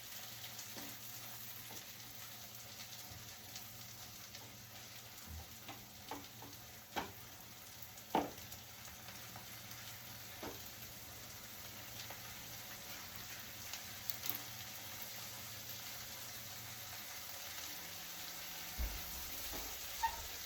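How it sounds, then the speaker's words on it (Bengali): Onion frying in a pan, a steady low sizzle and crackle with occasional soft clicks and stirring knocks, faint and continuous throughout with no talking. "পেঁয়াজটা দিয়ে ভাজবো এবার।"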